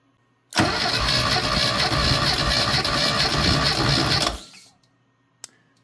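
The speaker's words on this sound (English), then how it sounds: "crank it over until it basically peaks, usually about four or five cranks" A classic car engine cranks over for about four seconds during a compression test with the throttle held fully open, a rapid rhythmic whirring that stops abruptly, followed by quiet and a single click.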